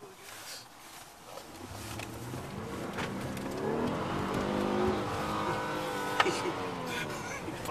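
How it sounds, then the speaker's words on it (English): A Ford Taurus engine revs up to its rev limiter at a Seattle press event, rising from a low idle into a sustained strained whine with a brief stutter near the end, heard from nearby under some background chatter. "You pop into the rev limiter there."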